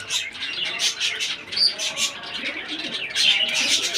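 Sky-blue round pigeons chirp and coo up close in a loft, with overlapping calls that rise and fall continuously, and a few soft wing flutters among them.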